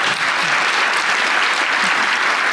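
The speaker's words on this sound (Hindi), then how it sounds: "ताली बजा लो बेटा" A studio audience at a comedy talk show claps, a loud, dense and even round of applause throughout.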